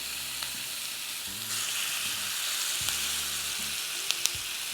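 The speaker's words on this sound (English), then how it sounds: "Now we are going to place our lamb chops right in, just like this." Lamb chops fry in a hot pan with a steady, close sizzling hiss that never lets up, broken only by a couple of faint clicks near the end.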